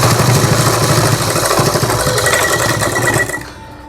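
A sewing machine stitches a fabric flower latkan with a loud, close, rapid mechanical whir and needle chatter that runs steadily, then cuts out near the end into a faint hum.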